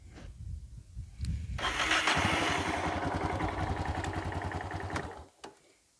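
A Yamaha TT 600 E motorcycle engine cranks and catches, runs with a steady rapid chug for a few seconds, then shuts off abruptly into quiet.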